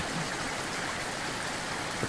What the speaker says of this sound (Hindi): सामने तो झरना है।